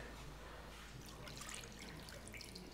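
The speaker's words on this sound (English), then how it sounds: "we're gonna take approximately 1 cup of water" About a cup of water poured for a fish marinade, a quiet, continuous trickling splash that runs evenly throughout, soft and close.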